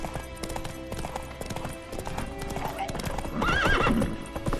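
Roach, a horse in The Witcher 3: Wild Hunt, clip-clops along at a steady hoofbeat rhythm, close, with a whinny near the end and faint game sounds underneath.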